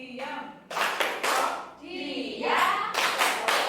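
The "tepuk diam" classroom clap pattern comes as several close, sharp bursts of hand claps in a rhythmic sequence, with voices chanting between and over the claps.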